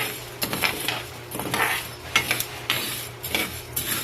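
Dry mung beans being roasted in a pan for ginataang munggo, giving a steady scraping and rattling of beans and utensil against the metal with repeated clinks, close and moderately loud with no talk.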